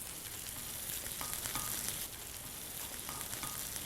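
Onions with brown sugar cook in a pan, giving a steady broadband sizzle that holds throughout at a modest level with faint crackles and no talk over it.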